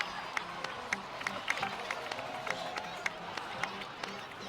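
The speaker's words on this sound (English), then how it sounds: "please give another round of applause for them" Steady crowd applause in the video game Genshin Impact, with scattered sharp claps and some cheering, sustained at a moderate level throughout.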